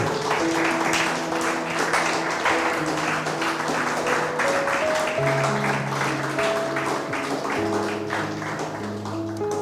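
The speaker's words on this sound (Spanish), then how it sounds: "Denle un aplauso al Señor." Church congregation applauding at the close of a sermon, steady clapping layered with sustained keyboard or organ chords, continuous and fairly loud from start to end.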